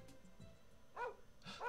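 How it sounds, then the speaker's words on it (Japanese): A dog barks in a video game set in Otaru, with two short bark bursts about half a second apart over a soft background of game music. "吠える犬。"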